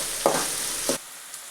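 Onions with a pinch of salt frying in a pan for idli upma give a loud, steady sizzle for about a second, broken by two stirring scrapes, then the sound drops to a quiet hiss.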